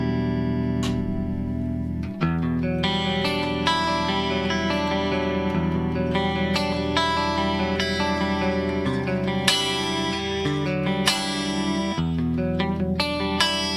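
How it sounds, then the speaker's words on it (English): An electric guitar plays sustained chords through a two-rack-unit rack-mounted chorus effect, shimmering and wavering, loud and continuous with no talking. "this is a 2-rack unit chorus, and it does this"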